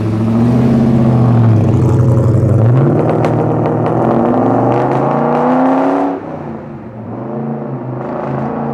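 A loud, deep 1971 Ford Falcon XY GT replica engine revs up and roars away, its throaty rumble rising in pitch before dropping off as it pulls into the distance.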